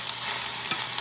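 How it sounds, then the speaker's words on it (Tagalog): Food frying and being stirred in a cooking pot at home, a steady sizzle with a couple of brief scraping stir sounds, close and moderately quiet, no voices. "Nagluluto ako dito sa kaldero"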